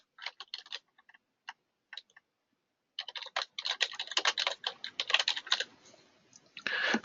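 Keys on a computer keyboard are typed to enter a name for a new project in software, first as a few scattered taps after a pause, then as a steady quick run of close, crisp clicks with no talking.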